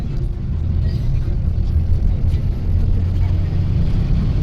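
Steady low engine rumble and road drone inside a Shivshahi bus travelling from Thane toward Shirdi on the Mumbai to Shirdi route, continuous and moderately loud with faint cabin noise.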